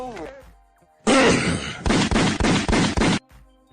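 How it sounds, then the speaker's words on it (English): A gunshot sound effect played on a music and entertainment livestream: a loud burst followed by five rapid, evenly spaced heavy blasts, coming right after a short bit of speech and then cutting off into quiet. "Definitely deserves a gunshot."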